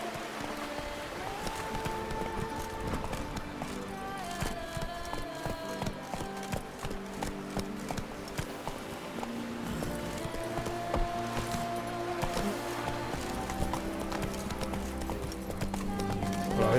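Horse hooves clip-clop in a fast, rhythmic gallop in The Witcher 3, steady and fairly close throughout, with game music underneath.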